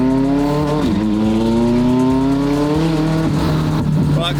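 A tuned 1300 whp McLaren 720 GTR launches hard as the clutch grabs, the engine note climbing steadily in a loud, rising whine with tyre noise and a brief chatter toward the end, up close.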